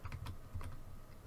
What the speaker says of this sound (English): can use your arrow key, the arrow key on your keyboard to line it